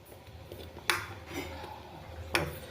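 A small metal tempering pan is picked up and handled in a kitchen while curd vada is being made, with two sharp clinks a little apart over quiet room noise.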